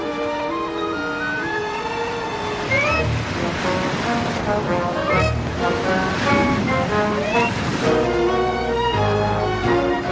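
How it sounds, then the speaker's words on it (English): Heavy surf crashing and surging in a continuous roar, with rising swells, under a loud tonal backdrop of music or voices. "The storm's getting worse."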